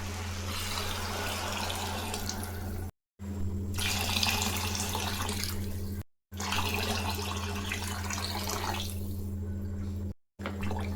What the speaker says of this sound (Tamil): நம்ம 1 டம்ளர் அரிசிக்கு 2 டம்ளர் தண்ணி ஊற்றலாம்